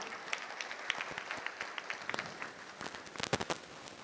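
A crowd at a public gathering claps in a faint, continuous patter of many hands that swells into sharper, louder claps near the end, heard from some distance.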